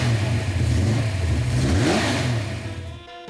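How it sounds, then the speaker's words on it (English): A Camaro engine revving at a car show, a loud close roar that rises in pitch then settles and drops off at the end. "it is pretty cool when he gets the engine going"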